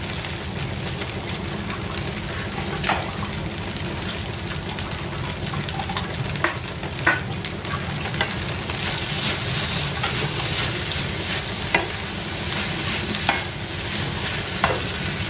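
Egg fried rice is stirred in a frying pan, a steady close sizzle broken by scattered scraping clinks of the utensil against the pan, with no talking.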